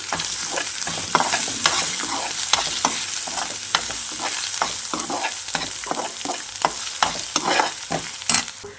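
Potato curry with turmeric is stirred in a pan, a spoon scraping in quick, uneven strokes over a steady sizzle, close and fairly loud with no talking.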